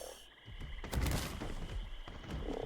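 A frog mount in ARK gives a few croaks and thumps, close but quiet, while it leaps about.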